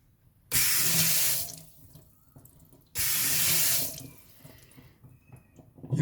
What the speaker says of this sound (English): it gives you a burst of water lasting a couple of seconds.